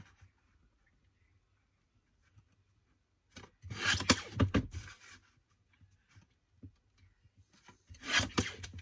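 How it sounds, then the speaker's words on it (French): Scissors cutting small photos out of paper for a handmade party card, two bursts of close rasping snips separated by quiet, with no talking. "Je découpe déjà mes petites photos."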